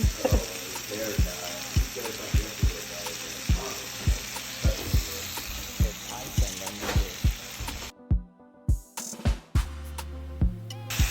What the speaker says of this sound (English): I got 6 shrimp in right now, just cooking, doing this thing